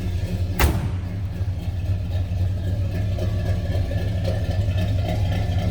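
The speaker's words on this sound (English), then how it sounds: "A little rumble coming out of that 400." A 1964 Pontiac LeMans 400 V8 idles with a deep, steady rumble and a low, throaty burble, preceded early on by a single sharp thump.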